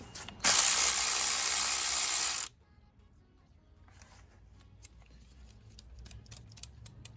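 A timing belt tensioner on an MK5 GTI cylinder head is popped loose, giving a loud, dense two-second burst of mechanical rasping up close, followed by quiet with faint scattered clicks.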